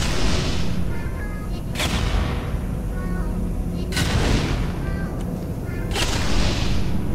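Turret gunfire in the Portal 2 video game: loud bursts of rapid shots come in three separate volleys, each a sharp crack that tails off, over a steady low rumble.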